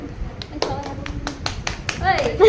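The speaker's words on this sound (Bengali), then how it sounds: "হাততালিটা দে" A few people clap in quick, uneven bursts over ongoing chatter, a small scattered round of applause.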